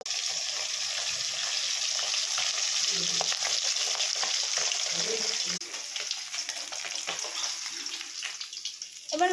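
Pabda fish sizzle steadily in hot oil in a home kitchen pan, a loud continuous frying hiss with occasional stirring scrapes and soft clatters near the end.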